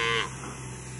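A Brangus cow gives a single short moo, close and fairly loud, lasting about a quarter second before fading into a low steady hum.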